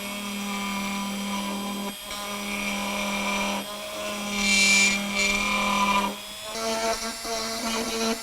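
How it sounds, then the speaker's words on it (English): Dremel rotary tool fitted with a carbide tip grinding out a rib on a plastic Mercedes-Benz door lever, a steady high whine that dips briefly and changes pitch as the bit bites into the plastic, close and loud throughout. "Install the carbide tip in a Dremel or a similar tool and grind out"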